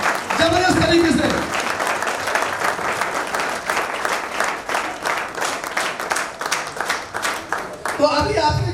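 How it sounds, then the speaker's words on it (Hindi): Enthusiastic audience applause at a motivational seminar, with individual claps distinctly audible in a brisk, uneven rhythm, and a voice speaking over the start and again at the end. "जबरदस्त तरीके से तालियां होनी चाहिए"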